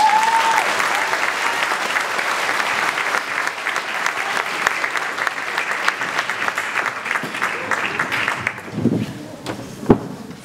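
Applause from the audience at a Year 6 school graduation, steady many-handed clapping that fades out after about eight seconds, followed by a few scattered knocks and thumps as the room settles, with a brief voice at the start.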